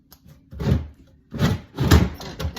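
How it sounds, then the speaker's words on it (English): A painted kitchen cupboard door opens wide enough for its pull-out to slide, giving three separate close bursts of wooden rumbling and clunking with short quiet gaps between them. "This one has a pull-out if you open the door wide enough."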